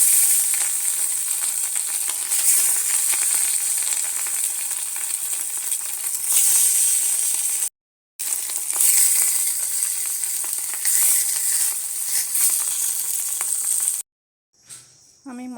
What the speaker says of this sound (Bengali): আমি একটু তেল দিয়ে হালকা করে ভেজে নিচ্ছি